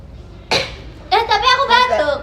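A single sharp cough bursts out near the microphone, followed after a short pause by someone speaking close by.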